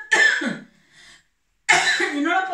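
A person coughs twice while cooking crepes in a home kitchen, each a harsh, close burst, separated by a brief quiet pause with a faint sound in between.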